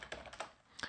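Computer keyboard keys clack in a quick run of about five distinct close strokes, typing a terminal command with no voice over them.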